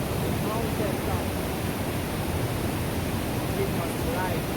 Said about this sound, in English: water is coming from the mountain top